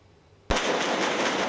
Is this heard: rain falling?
no